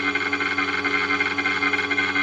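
A steady mechanical hum with tonal harmonics runs throughout, a new pottery wheel's electric motor whirring at constant speed with something rubbing, close and fairly loud, with no talking.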